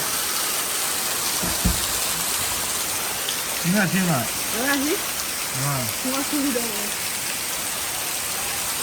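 Heavy rain pours in Chattogram, a dense, steady hiss of water on surfaces that holds throughout, while a voice speaks briefly partway through.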